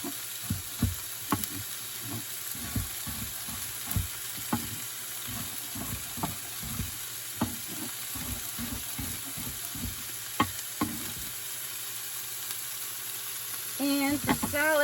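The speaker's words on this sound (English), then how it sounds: "I'll just chop up these pre-washed baby carrots" A knife chops pre-washed baby carrots on a cutting board in a home kitchen, giving a steady run of close, crisp knocks at an uneven pace, with a brief voice at the end.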